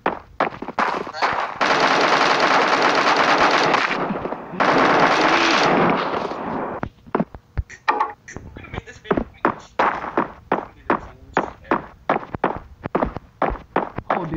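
Rapid automatic AK rifle fire from the mobile shooter game Bullet Force: a long, loud continuous burst, then a pause, a second burst, and then quick clipped volleys of separate shots with a voice talking in between.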